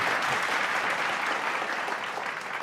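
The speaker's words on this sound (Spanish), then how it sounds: "Denle un aplauso al Give a Señor little por clap mi offering buen for that. intérprete." Church congregation at Su Gran Alabanza in Hawaii applauding the interpreter, a full, continuous burst of many hands clapping close and loud throughout.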